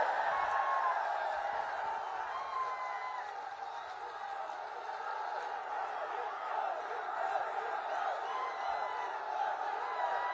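A large crowd at a political rally in Jaitaran roars and cheers continuously, a dense wash of voices with scattered whoops that stays loud and steady from start to finish.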